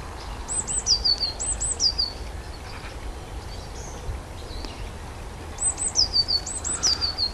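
A blue tit sings outdoors in two clear bursts of high, repeated thin chirping notes, near and distinct over a quiet background hiss, separated by a pause.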